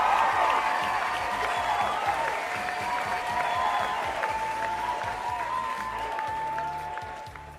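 Cheering and applause from a crowd run steadily and fairly loud, a continuous clapping wash with a few tonal voices and sounds riding on top before easing slightly toward the end.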